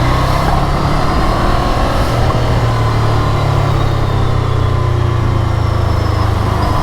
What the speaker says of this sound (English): These are the rumblings of the engine, the body, the foot pegs